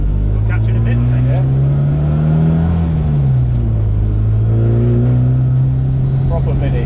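A classic Mini with a 1380cc John Cooper conversion pulls hard through the gears, its loud, close engine drone rising and dipping with each shift while people talk over it inside the car.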